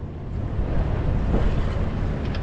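Wind gusts around a sailboat anchored in Rodney Bay, a loud, steady rumbling rush buffeting the microphone with no voices.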